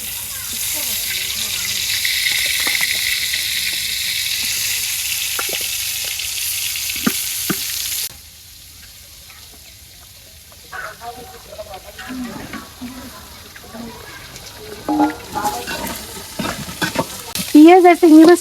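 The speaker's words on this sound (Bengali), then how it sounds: "বাকি বেগুন গুলো ভাজতে নেই।" Eggplant slices frying in plenty of oil, a loud continuous sizzle for the first half, then a quieter stretch with clinks of a utensil and voices joining toward the end.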